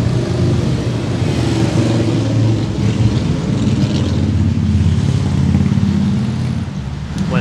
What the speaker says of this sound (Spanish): ya pasaron los señores de las Harley Davidson